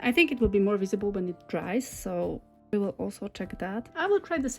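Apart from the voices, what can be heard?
No distinct noise like a dog, phone or traffic.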